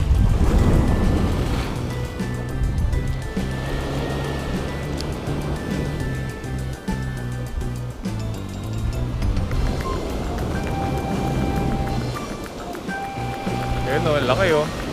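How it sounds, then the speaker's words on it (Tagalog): Strong ocean waves crash and roll continuously on the shore during shore fishing, a loud broad wash of surf that stays steady throughout, with a voice talking over it. "Ang lupit ng alon."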